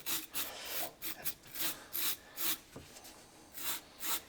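A wire brush scrubs old cork off an industrial sewing machine clutch motor in short, repeated rasping strokes, about ten close, fairly loud scrapes with brief gaps between them.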